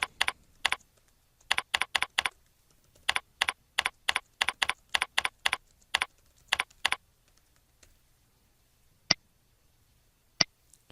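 Bursts of computer keyboard typing, quick clusters of crisp clicks near the mic with short pauses between runs, then two isolated sharper clicks near the end; no talking.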